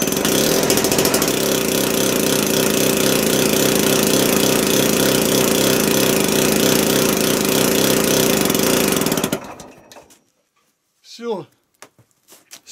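A diesel engine cranks and runs with hand throttle applied, a loud continuous rattling roar for about nine seconds before cutting off abruptly, followed by near silence and a short distant noise.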